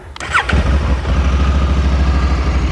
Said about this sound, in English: let's just fire her up for the sound